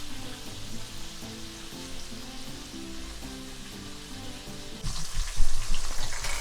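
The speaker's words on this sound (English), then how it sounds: "this has been frying for the last 8 minutes" Chicken breast frying in hot oil on a stove gives a steady, close sizzling hiss throughout, growing louder and more crackly in the last second and a half.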